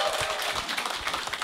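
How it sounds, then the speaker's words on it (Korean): Audience at a business presentation clapping and cheering as a speaker is introduced, a dense, steady roar of applause throughout. "큰 환호와 박수를 부탁드리겠습니다"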